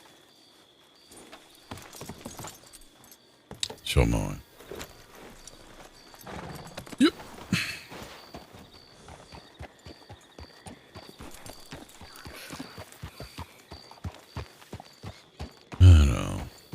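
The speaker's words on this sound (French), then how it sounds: "Ça doit être son cheval." A horse walks on a road, its hooves clip-clopping in a steady close rhythm with a few louder thumps, while people talk briefly in French over it.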